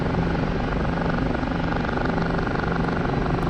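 Kiowa helicopter flying in a video game, a loud continuous rotor and engine drone with a steady rapid thump, close and unbroken throughout, no voices.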